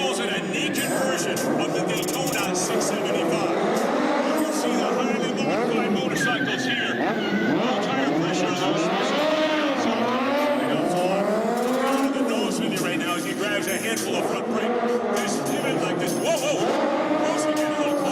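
Modified Triumph triple motorcycle, a naked Daytona 675 style bike at an Edmonton bike show, revving hard with rising and falling engine pitch, loud and close, with crowd noise and a voice talking over it throughout.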